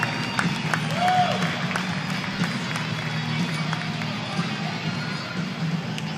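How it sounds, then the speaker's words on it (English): Crowd applause and cheering at a boys' 10-and-under 100-yard freestyle swim meet fill an indoor pool hall, steady clapping mixed with hubbub throughout, moderately loud. "Give a round of applause for our top 8 finishers, boys, 10 and under 100-yard freestyle"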